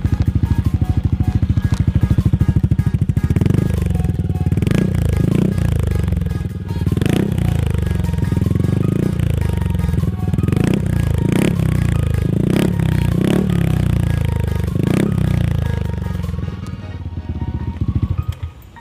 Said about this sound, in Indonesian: pasti teman-teman penasaran kan gimana suara knalpotnya